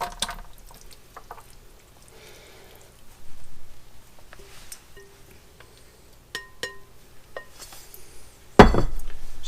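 Squash casserole mixture being transferred into a casserole pan: scattered light clinks of a utensil against the dish, soft wet scraping and plops, ending in a louder close clatter, with no talking.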